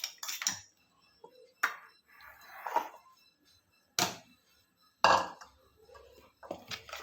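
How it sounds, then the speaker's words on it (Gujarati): Green corn batter is mixed in a bowl with a spoon, giving irregular sharp clinks and scrapes separated by quiet gaps, close and fairly loud. "આવી રીતે આપણે બેટરને મિક્સ કરી દેવાનું છે."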